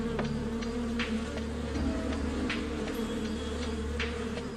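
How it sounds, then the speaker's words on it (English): Swarm of bees buzzing steadily up close, a dense droning hum with occasional sharper passes of individual insects. "the bees would need to start stinging to make the other bees aggressive."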